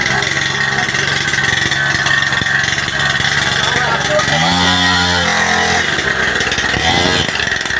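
A small petrol engine on a children's motorbike runs steadily, buzzing and revving, with people talking over it nearby.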